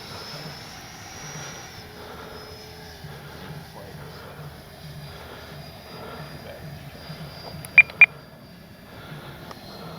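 A HobbyKing Flycat V2 RC jet flies at about three-quarter throttle, giving a faint, steady, thin whine from a distance, with two short beeps near the end.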